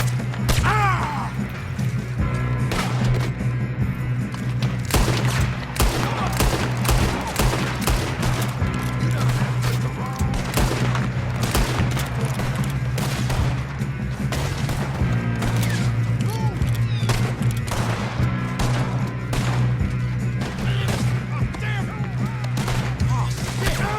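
Rapid gunfire crackles through a Red Dead Redemption 2 shootout in the town of Valentine, with dense overlapping shots firing continuously over a low steady hum while voices talk throughout.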